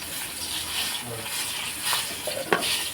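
Broth poured over fried spices in a pan, a steady hiss and bubbling wash with a louder splash and scrape near the end.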